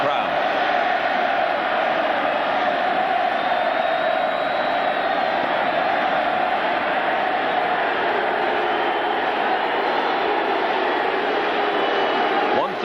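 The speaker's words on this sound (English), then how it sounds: "a derisive chant of Darryl, Darryl from the Arlington crowd" A big baseball crowd at a 1999 Rangers playoff game in Arlington chants and roars in a steady, far-off wash that runs the whole time beneath a broadcast commentator's talk.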